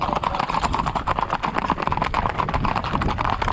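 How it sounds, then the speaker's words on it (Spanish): Horses galloping along a racetrack, a steady rapid clip-clop of many hooves pounding loud and close for the whole stretch, with no talk over it. "Mucho caballo bueno aquí."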